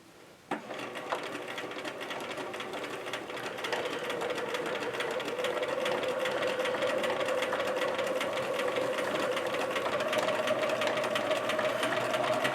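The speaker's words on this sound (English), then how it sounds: "drop my needle right on top of that line of stitching and then just kind of come this way with my sewing a little bit" A sewing machine stitching a spring table runner, starting with a click and then running continuously at a steady fast pace, a close, even whirring hum with no voices.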